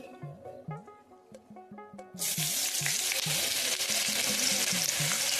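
Onions hit oil left over from frying prawns and burst into a loud, steady sizzle that fills the second half, after a quieter opening with soft background melody.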